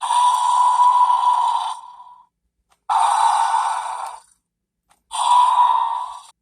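Three electronic roars from a 2021 Mattel Jurassic World Camp Cretaceous Scorpios Rex dinosaur toy, each raspy and about a second and a half long, separated by short silences, close and loud.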